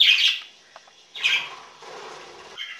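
Pet budgies chirping in their cage, short bright squawky bursts near the start and again after a pause, with softer chatter in between.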